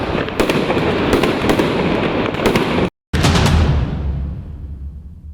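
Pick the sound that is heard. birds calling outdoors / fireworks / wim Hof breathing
fireworks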